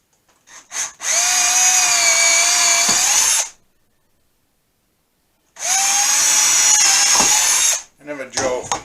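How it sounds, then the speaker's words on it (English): Power drill boring pilot holes into 2x4 lumber for a portable band saw stand, two loud, close, sustained high whines of a few seconds each, split by a silent gap, with brief clicks and handling at the start and end. "drill out your holes for your stand, and basically I just drill 2"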